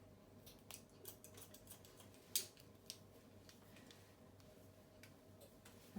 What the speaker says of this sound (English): then point cutting it.